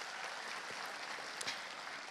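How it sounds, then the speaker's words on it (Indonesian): An audience applauds at a national ceremony, a dense, even wash of clapping from many hands that stays fairly faint and distant throughout the short stretch. "Tepuk tangan untuk kita semuanya."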